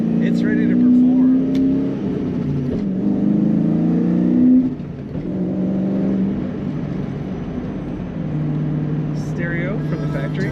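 A 2001 Ford Mustang Sean Hyland Motorsports Edition with a power adder on its engine rumbles loud and steady, its low note swelling and easing across the stretch while a voice talks over it.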